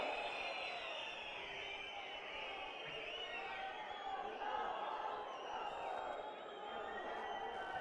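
A big crowd at a Congress political rally in Himachal addressed by Priyanka Gandhi cheers and applauds as a steady, distant-sounding roar that never lets up.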